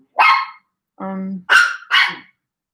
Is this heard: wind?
no